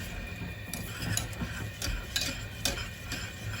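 Macaroni cheese sauce being stirred in a pan, with a soft repeated scraping and ticking as a spoon moves against the metal, close and steady at low level.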